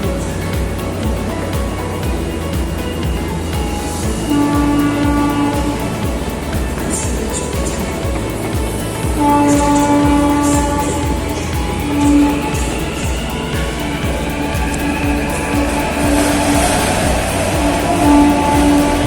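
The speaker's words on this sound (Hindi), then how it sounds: "ये एक मेट्रो ट्रेन अब यहाँ से जा चुकी है" A metro train in Telangana, India rumbles and hums as it pulls away from an elevated station, steady mechanical drone with faint whines and background ambience, no speech.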